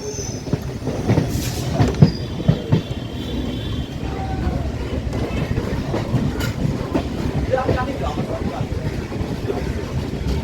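A Kolkata Chakrarail circular railway train runs along the suburban line beside the Ganges, with continuous rumbling wheels, rhythmic clickety-clack and occasional metallic squeals, heard from on board at moderate loudness.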